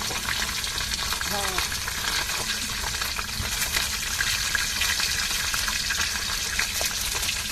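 Fish frying in a pan, a steady loud sizzle and crackle that runs unbroken from start to finish with no voices.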